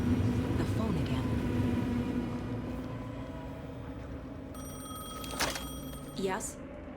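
A telephone ringing in Alan Wake 2, with sharp repeated rings late on, the last one brief, over a steady low droning ambience.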